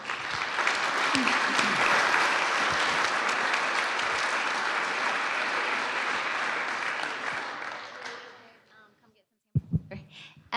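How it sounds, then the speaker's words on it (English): An audience at a 1 Million Cups Kansas City startup presentation applauds in a full, sustained burst of clapping that thins and fades after about eight seconds, followed by a few brief voices. "Big round of applause."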